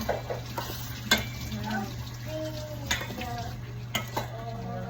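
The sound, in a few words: stirring chicken tinola in a pot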